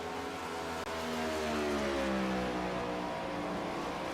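A race car engine at Pocono drones steadily from afar, its pitch sliding and wavering as the car runs laps, with no talk over it.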